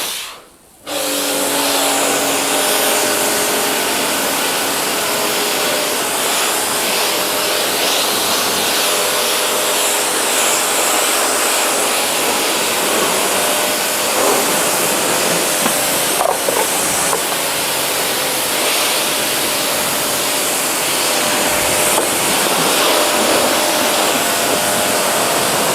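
A water pump runs while a car is washed. After a brief start it gives a loud, close, continuous hissing roar of spraying water that stays steady throughout.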